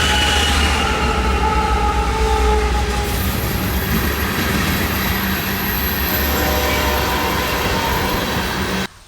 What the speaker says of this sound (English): trains for the dramatic final note of Wisconsin